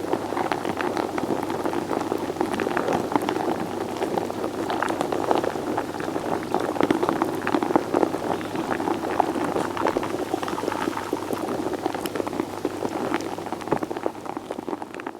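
Field recording from inside soil, a dense, steady crackle of tiny clicks and pops like boiling or light rain, continuous and fairly loud with no voices.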